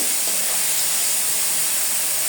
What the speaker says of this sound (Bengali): তেলগুলো গরম হয়ে গিয়েছে মাছগুলো দিয়ে দিলাম